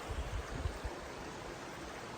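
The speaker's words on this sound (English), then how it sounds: "there's a lot of little waterfalls here" Small waterfalls tumble along a rocky stream near a footbridge on a Scafell Pike hike, a steady faint rushing wash with a few low gusty thumps of wind.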